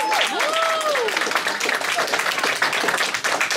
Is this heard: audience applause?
yes